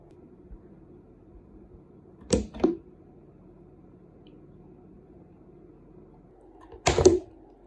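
A Preethi Boltz 1000-watt mixer grinder set down on a table, its rubber feet gripping the surface: two soft thuds close together, then after a pause another louder settling knock, with no talk.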